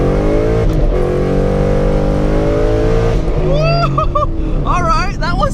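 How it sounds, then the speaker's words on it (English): A car accelerates hard, its loud, close engine note climbing steadily, then dropping sharply at the shift into second gear before rising again with a couple of brief rev blips. "I'm gonna see if I get locked out trying to hit a second gear."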